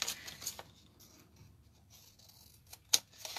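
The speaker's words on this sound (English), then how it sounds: "Take my big scissors." A few sharp snips of large scissors cutting paper, close up and quiet, separated by short pauses, with one louder snip near the end.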